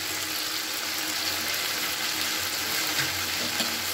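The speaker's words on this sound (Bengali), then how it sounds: "দিয়ে আমি কিন্তু এটাকে খুব ভালো করে কষিয়ে নেব।" Salt, cumin powder and chilli powder fry hard in a pan for a khoira fish curry, giving a steady, even sizzle with faint stirring scrapes, heard close and with no talk.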